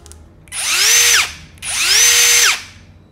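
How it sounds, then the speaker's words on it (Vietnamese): A Ryobi brushless cordless drill in hammer mode runs in two bursts of about a second each, spinning up and winding down with a whining motor tone, close and loud with no talking. "Này có búa nha, mình khoan được tường."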